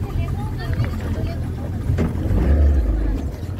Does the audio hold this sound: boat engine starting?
yes